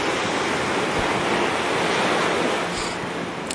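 Ocean surf washing onto the beach at Destin, Florida in January, a steady loud wash of breaking waves with wind rumble on the microphone and no voices.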